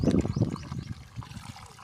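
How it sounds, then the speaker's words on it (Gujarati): Water poured over drumsticks in a vessel to wash them, a brief splashy trickle loudest at the start, then fading into lighter dribbles and handling clatter. "ચાલો પાણી નાખી ધોઈ લઈશું"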